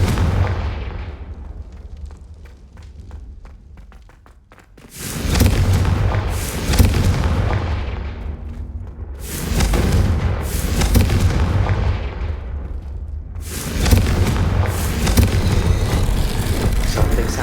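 Repeated Confringo blasting spell explosions in the Hogwarts Legacy video game, each a loud booming blast that decays quickly, recurring every few seconds over a rumbling background after a quieter start.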